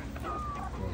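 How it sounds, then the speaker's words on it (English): A brown chicken clucks nearby in short, soft bursts, partly buried under a steady, noisy outdoor background. "There's a brown chicken."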